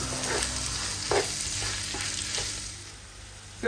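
Onions frying in a pan with whole spices for a Bengali roast chicken, giving a steady bright sizzle with a few soft stirring knocks, close and without talk, ending on a small clatter.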